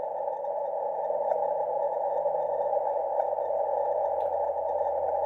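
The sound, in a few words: HAARP radio pulse received at 9.6 MHz through CW filter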